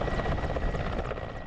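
A Russian Mi-17 military helicopter drones steadily at a distance, its rotor and engine a continuous broadband whir with a faint rhythmic beat, fairly quiet throughout.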